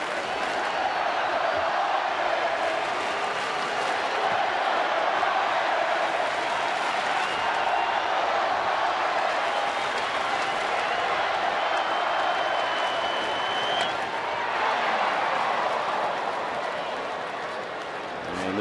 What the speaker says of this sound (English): this big crowd sensing the importance of the moment with 2 men in scoring position